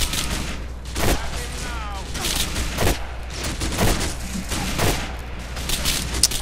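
Sniper rifle fire in GTA IV: The Ballad of Gay Tony, with several sharp, loud gunshot cracks spaced a second or two apart over a steady game background.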